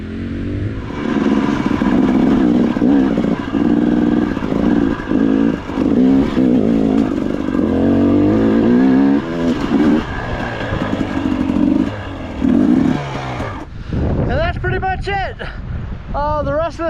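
Two-stroke dirt bikes, a Yamaha YZ250 and a KTM 250XC-W, ride a rocky trail, their loud, close engines revving and bogging in uneven pulses, with wind buffeting the microphone and sharp rising revs near the end.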